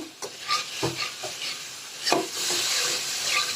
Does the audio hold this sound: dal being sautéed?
yes